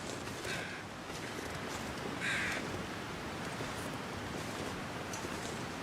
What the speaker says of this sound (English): I think I hear a crow.